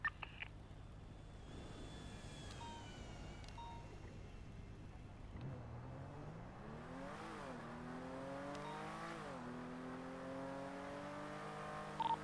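Car in the GTA roleplay game NoPixel 4.0 accelerating hard, its engine note climbing steadily through several gear shifts over a low steady drone, with faint background noise and no speech.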